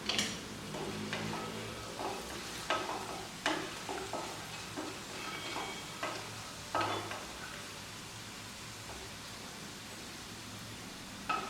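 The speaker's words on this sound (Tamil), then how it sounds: "இப்போ கொஞ்சமாக எண்ணெய் ஊற்றி இந்த வடமாவை வந்து கொஞ்சம் கொஞ்சமாக அதில் போட்டு வறுத்துக்கலாம்" Vada batter sizzles steadily in hot oil, a constant close crackling hiss with occasional taps of a spoon against the pan.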